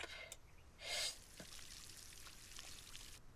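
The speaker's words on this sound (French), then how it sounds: "Et on va arroser" Watering plants in the floating-island survival game Solarpunk: a brief burst of splashing, pouring water, then a soft trickle under quiet game ambience, with no voice over it.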